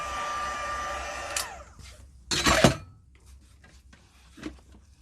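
An embossing heat gun blows with a steady hairdryer-like whoosh that cuts off, followed by brief bursts of rustling and handling noise nearby.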